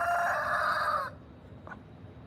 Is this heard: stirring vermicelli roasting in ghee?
no